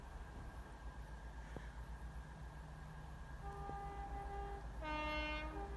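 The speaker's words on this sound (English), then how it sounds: "there's a train coming the other way to photobomb it" A train approaches from a distance, a steady low diesel rumble that builds gradually, and a multi-tone horn sounds twice near the end. No one speaks.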